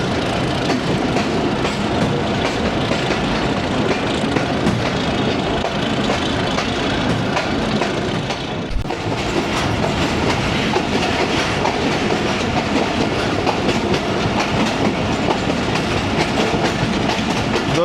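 A shuttle train on a morning branch line runs steadily along the railway track, a loud continuous rumble with rhythmic clickety-clack from the wheels over rail joints, alone without talk throughout.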